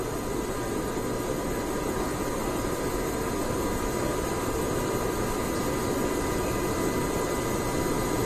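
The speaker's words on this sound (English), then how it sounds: "Sounds like max Q is passed and we've throttled back up those Merlin 9 engines." A SpaceX Falcon 9 rocket's Merlin engines roar during a night launch, a steady, dense, broadband roar, unbroken and at constant loudness throughout, with no voices.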